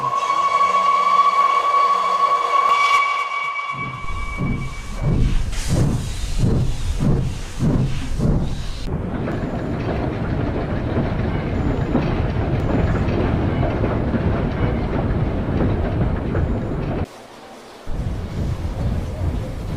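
Gordon, a steam locomotive, steaming away: a steady whistle tone, then rhythmic chuffs that speed up and merge into a continuous rolling rumble of the moving train. A narrator speaks over it.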